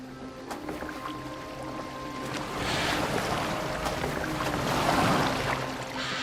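A boat glides across open water in Assassin's Creed Valhalla, with a steady wash of waves and splashing against the hull that swells louder midway, under a soft wind with no voices present.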